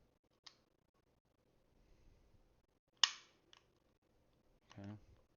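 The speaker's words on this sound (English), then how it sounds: "H&K P7 has the squeeze cocker, which pulls back the firing pin." An H&K P7 pistol's squeeze cocker is worked by hand, giving a few sharp, close metallic clicks and snaps separated by quiet gaps, followed by a short voice.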